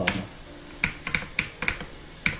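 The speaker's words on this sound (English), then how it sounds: "I hate the sound of my spacebar." Computer keyboard spacebar pressed repeatedly, about seven sharp clacky taps at irregular intervals, close and fairly loud with a quiet background.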